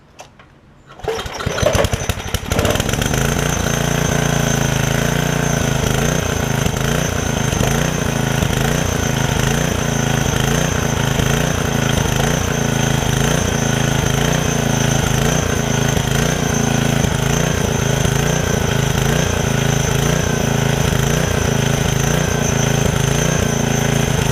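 A small engine cold starts after a couple of pulls, catches abruptly and then runs on at a loud, steady, rough idle with a fast chugging pulse close by.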